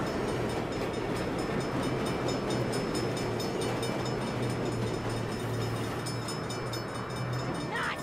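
Steady rumbling of a train rolling past with rhythmic rail clatter in the video game Saints Row (2022), a constant loud roar throughout with a low hum underneath.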